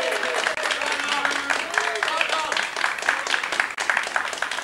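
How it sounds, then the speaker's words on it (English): Studio audience applause for guest Sally Cook on a radio show, a fairly steady wash of clapping with voices talking over it throughout. "Let's have a round of applause for Sally Cook."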